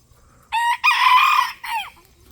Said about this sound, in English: Roosty, he's out here crowing this morning.